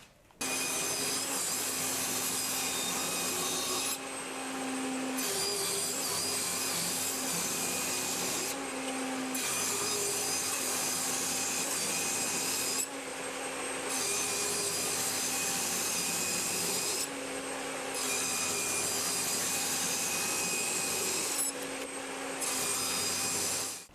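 Thin strips of wood about 1.2 mm thick being cut for DIY furniture handles, a continuous loud machine whine with short regular dips as each strip passes through.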